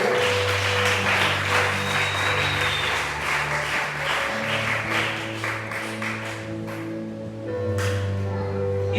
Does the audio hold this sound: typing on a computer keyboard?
no